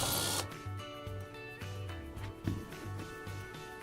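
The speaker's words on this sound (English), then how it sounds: "Use the drill guide that's supplied to drill your pilot hole." A power drill cuts a pilot hole through an elevator wall panel using a supplied drill guide, a close humming motor whine pulsing in short bursts as the bit bites, no speech.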